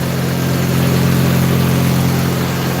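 A generator welder's engine idles steadily and loud at close range, a constant low hum with even harmonics and no change in speed, with no voices over it.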